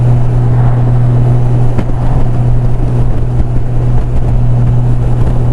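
Engine of a motorbike cruising along a road on an autumn ride toward Gothic, a steady low drone with constant wind rush across the microphone, loud and continuous without pause.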